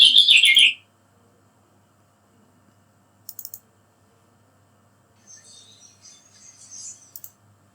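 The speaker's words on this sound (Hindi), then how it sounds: "चलिए अब चिड़िया का चहचहाने वाला इसमें ऐड कर देते हैं" A short, sharp bird chirp opens, followed by near silence, a few faint clicks and a soft, distant twittering toward the end.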